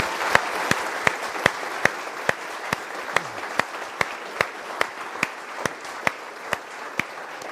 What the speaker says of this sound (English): let's end with another round of applause for the two of them